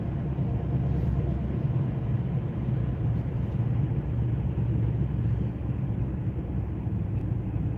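A car coasts at a red light as the driver lifts off the gas. A steady low road and engine rumble fills the interior, even and continuous throughout.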